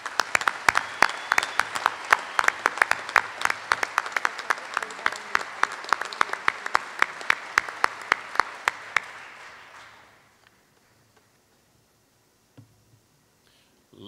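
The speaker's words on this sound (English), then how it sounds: "We'd like to have one more round of applause for tonight's ceremony." An audience at an official military sword ceremony for a lieutenant general claps loudly and steadily for about nine seconds, then the applause fades away into near silence with a few last stray claps.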